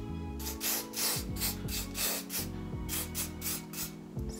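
Spritzes of hair spray from a pump bottle hit hair where a blonde lace front wig's hairline will sit, a quick run of sharp, close hissing bursts repeated in an uneven rhythm with no talking.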